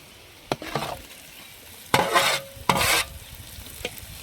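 Onions frying for chicken gravy, with a spoon stirring and scraping the pan in a few short bursts over a faint steady sizzle.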